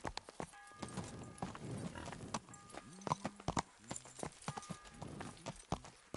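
Horse hooves clip-clop at a steady trot in the video game Kingdom Come: Deliverance, with a few tonal chimes and effects layered over the rhythmic clopping.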